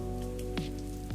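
Rain falls steadily in the video game Glory Hounds, a continuous patter under droning game music with a couple of brief swooping tones, and no talking.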